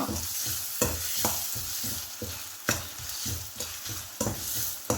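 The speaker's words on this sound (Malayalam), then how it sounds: "എല്ലാം കൂടി ഒന്ന് നല്ലതുപോലെ വഴന്ന് വരട്ടെ" Cut garlic cloves and curry sauté in a hot pan, a constant sizzle broken by regular scraping stirs of a spoon, close and alone with no voices.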